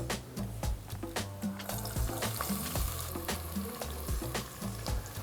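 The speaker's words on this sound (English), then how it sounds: "add some of your bay leaves and then start browning your onions" Onions browning in a pan with roasting whole spices and bay leaves, a steady close sizzle of frying with repeated clinks and scrapes of stirring against the pan.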